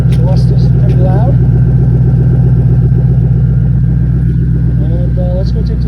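A Mustang GT idles with a loud exhaust, giving a deep, steady rumble up close. Someone talks over the running engine throughout.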